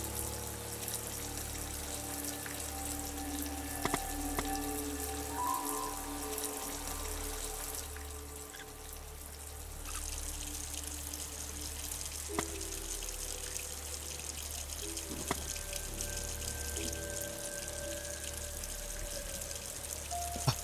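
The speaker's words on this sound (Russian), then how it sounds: "Включаем воду." Water runs steadily from a tap in a horror escape video game, a faint continuous hiss and splash with small drips and clicks layered over a low hum for about twenty seconds, no talk.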